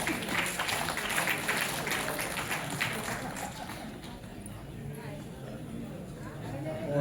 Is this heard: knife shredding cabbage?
no